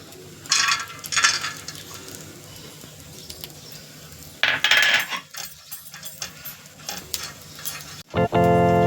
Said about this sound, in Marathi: आता आपण सुकं खोबरं खरपूस भाजून घेऊयात.